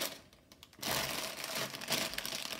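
Plastic bags of Lego Technic 42098 Car Transporter parts being handled, a burst of loud crinkling and rustling that starts after a quieter moment and continues close to the microphone.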